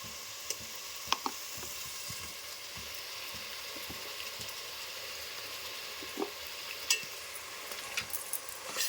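Freshly ground ginger paste fries with onions and turmeric in a pan for boti curry, a soft continuous sizzle with scattered small pops and stirring clicks, fairly quiet and with no talk.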